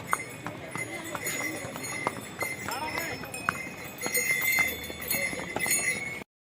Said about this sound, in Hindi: हम अब घोड़े की सवारी कर रहे हैं